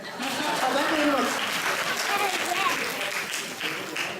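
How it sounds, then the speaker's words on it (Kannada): An audience at a Kannada contest show claps steadily throughout, a broad ragged patter of many hands, while a voice talks over it. "ಚಪ್ಪಾಳೆ ತಟ್ಟಿ ಸ್ವಾಮಿ."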